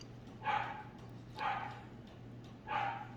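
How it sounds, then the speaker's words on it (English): A dog barking indoors in three separate, evenly spaced barks over a low steady hum, moderately distant and fairly quiet, with no speech. "Sorry about my dog barking,"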